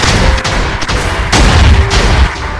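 Firework rockets launch and burst in a video game, a loud dense run of sharp cracks and booms with heavy low rumble, several bangs piling up in quick succession.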